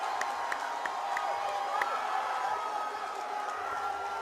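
Arena crowd at a RUF 63 MMA event cheers and roars after a second-round rear naked choke submission win, steady and moderately distant with scattered whoops, under a commentator's voice.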